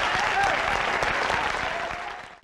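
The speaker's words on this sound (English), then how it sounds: "Let's give him a big round of applause." Live audience applause greets a performer, a brisk burst of clapping with faint crowd murmur that holds for two seconds and cuts off quickly.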